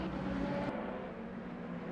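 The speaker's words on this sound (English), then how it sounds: "We'll ride along board to listen to that Cadillac, the second best sounding car in my opinion on the track" Onboard engine note of a Cadillac prototype race car circling Spa-Francorchamps in the Le Mans Ultimate sim, a steady loud low drone with a brief shift in tone partway through.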